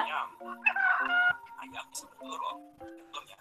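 A rooster crows in stretched, wavering calls with a few short clucking notes between, fairly close, over a quiet background.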